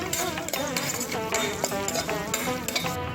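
Green chillies and curry leaves crackle and sizzle in hot oil in a pan, a dense busy frying noise with stirring scrapes and light clinks throughout.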